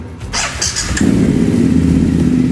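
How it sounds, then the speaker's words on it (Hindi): A BMW motorcycle engine cranks briefly with a starter whine, then catches and settles into a loud, steady idle rumble close by, with no talking. "Let's start the bike now."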